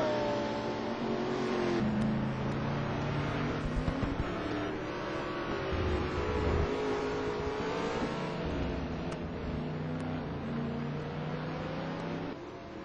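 Race cars in Gran Turismo Sport lap the Vallelunga circuit, their engines whining and shifting pitch through corners, fairly quiet and continuous with occasional rising revs.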